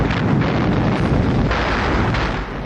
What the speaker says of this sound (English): Heavy fire came from the Kronstadt stronghold and from the Baltic Navy ships as well as the field artillery